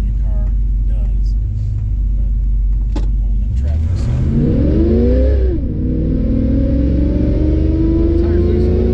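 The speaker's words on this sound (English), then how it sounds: "Do just like a little 0 to 50 and see how this old California car does." A 1955 Chevrolet 210 street rod accelerates from a standstill to about 50 mph, its engine note rising steadily through the gears as a loud, close, continuous rumble from inside the car.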